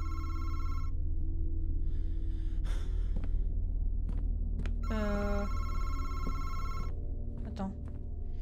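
A telephone rings in the Madison horror video game with bursts of shrill electronic bell tones, one near the start and a louder stretch later, alongside breathy gasps and sighs over a low ambient drone.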